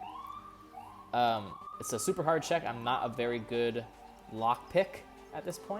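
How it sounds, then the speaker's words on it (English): A wailing emergency siren rises and falls on a New York City street behind someone talking steadily close by, the siren clearest before he starts speaking. "Apologies for the sirens in the background."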